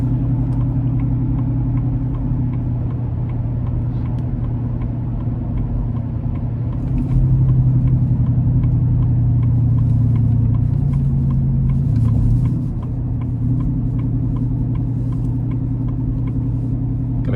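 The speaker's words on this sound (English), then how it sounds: "Now we're gonna give it a quick pull getting on the interstate here." A supercharged 2025 Ford F-150 XL pulls onto the interstate, its engine a loud, steady in-cab drone that swells briefly mid-pull before settling back to an even hum, with no speech.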